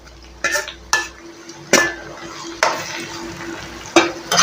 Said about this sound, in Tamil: இந்த நேரத்தில் கட் பண்ணி வச்சு தக்காளியை போட்டுடலாம்